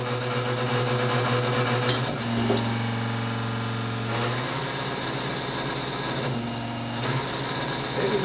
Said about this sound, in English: So let it make noise as long as it's pumping good.